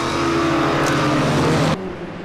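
GT race cars at Brands Hatch Indy circuit roar past in a dense, loud engine blast that holds steady for nearly two seconds, then drops abruptly to a lower drone as the pack moves away.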